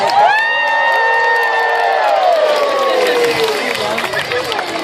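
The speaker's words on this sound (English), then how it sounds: "Lara fans, make some noise!" Zoo audience at a sea lion show cheering loudly, a dense burst of shouting and whooping from many voices, children among them, sustained throughout and close to the listener.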